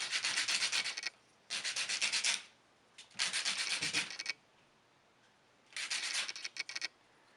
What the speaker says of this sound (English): And that's 60 grit sandpaper. And it doesn't take much to cut the corner off.